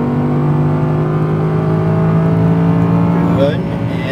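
A V10 Audi R8 engine roars loud and close at full throttle on a track, a steady high drone that climbs in pitch before a quick gearshift near the end.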